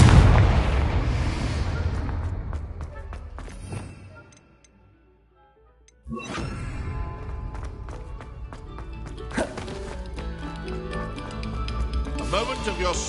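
A Confringo blasting spell in the Hogwarts video game, loud booming explosions with rumbling debris, then a brief near-silence before another heavy blast and crackling aftermath, with game voices heard.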